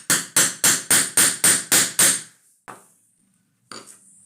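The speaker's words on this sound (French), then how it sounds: "Je prends mon marteau et je frappe de plusieurs coups secs pour sertir mon rivet." A hammer strikes a metal rivet to set it through leather on a small coin purse, seven sharp evenly spaced blows in quick succession, then one lighter tap and another after a pause, close and crisp.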